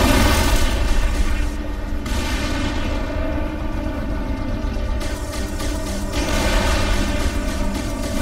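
Gunfire and explosions in the video game Halo 3: ODST, a steady loud wall of booming blasts and rattling shots layered over a constant droning game soundscape.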